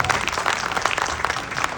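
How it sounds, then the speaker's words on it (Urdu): Audience applause for a guest at a gathering in a Lahore house, steady dense clapping throughout, fairly close and moderately loud with no talk over it. "ایک خصوصی تالی ہونی چاہیے"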